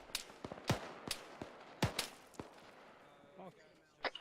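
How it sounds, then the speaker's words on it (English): Distant gunshots crack out in an irregular sequence, several sharp reports with rolling echoes, some louder and some fainter, separated by quiet gaps and ending with one more shot. "I'm hearing shots out to the west"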